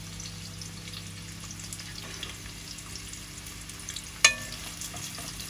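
Onions and meat paste frying in a pan for a Bangladeshi goat tripe and beef dish give a steady, low sizzle throughout, with one sharp clink or spatter near the end.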